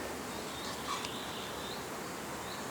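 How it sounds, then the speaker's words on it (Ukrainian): A steady, dense insect drone fills the whole stretch, many bees buzzing close by on flowering water horseradish in a marshy field, with faint higher whines drifting over it. "Подивіться, які бджоли."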